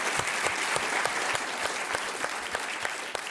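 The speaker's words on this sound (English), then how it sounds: "So give them an applause." Audience applause at a World Economic Forum 2024 panel discussion on security with NATO's Secretary General, steady dense clapping filling the hall for a few seconds without speech.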